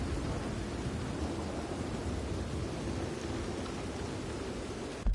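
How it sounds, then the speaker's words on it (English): A game thunderstorm in Red Dead Redemption 2 on PS4: steady, dense rain hiss with low rolling thunder rumbling throughout, loud and continuous with no talk. "That is not your typical video game lightning storm."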